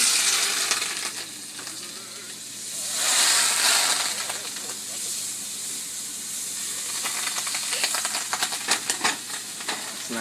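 Country Crock vegetable spread sizzling in a hot sauté pan, a steady frying hiss with a louder steamy surge partway through and scattered crackles and light clinks near the end.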